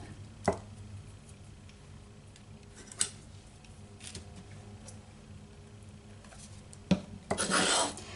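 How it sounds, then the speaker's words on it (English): Scissors snip excess cord while making a handmade greeting card, giving a few faint, sharp cuts spread apart, then a short burst of rustling and cutting near the end in a quiet room. "I don't need all the extra cord right there, so I'm just going to trim it"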